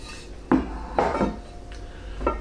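A ceramic bread baker or Dutch oven is handled, giving a few separate clanks and knocks of heavy cookware, close and moderately loud, spaced over a couple of seconds with no voices.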